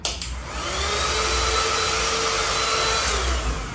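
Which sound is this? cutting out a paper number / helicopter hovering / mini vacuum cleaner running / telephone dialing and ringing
mini vacuum cleaner running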